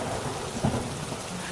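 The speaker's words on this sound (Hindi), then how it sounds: "तभी अचानक फिर से भयंकर बारिश शुरू हो जाती है।" Heavy rain hisses steadily across the whole moment, with a brief low thunder rumble swelling near the middle and fading into the downpour.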